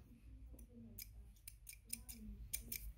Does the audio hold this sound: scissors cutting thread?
yes